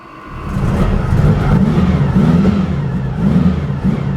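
A car pulls away and drives with a diesel heater running, giving a steady loud engine rumble with rising and falling surges of revving throughout, no voices.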